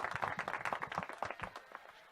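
A studio audience claps in a brief, uneven patter of hands, fairly close and moderately loud, thinning out toward the end.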